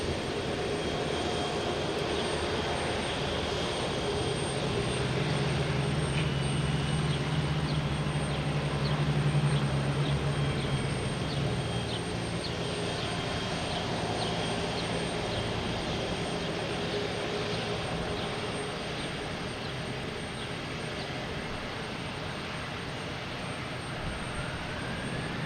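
Aer Lingus Airbus A330 jet at Boston Logan Airport, a steady broadband engine roar from a passing airliner holding loud and continuous throughout, swelling slightly midway then easing off slowly, with no voices.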